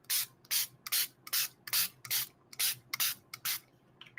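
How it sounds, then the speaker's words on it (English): Plain water spritzed from a spray bottle onto an art journal page: about ten quick, evenly spaced pumps, each a close, bright hiss, with no talk. "It's just plain water that I'm spraying the page with."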